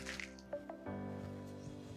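Tinted putty for decorative plaster is stirred and folded by hand, beige and black tint worked into white, giving soft wet squishing and a few sticky clicks close up.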